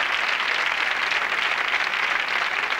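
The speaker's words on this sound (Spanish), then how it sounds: "Pues demos un aplauso muy fuerte a los de los focos" Steady audience applause fills a comedy stage show, a dense, even wash of clapping held at constant loudness with no voices.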